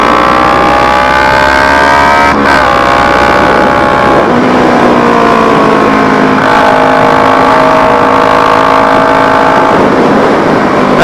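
A loud, close Kawasaki Z300 motorcycle engine with an open exhaust pipe revs hard, pitch climbing and falling in repeated surges with a raspy exhaust note throughout.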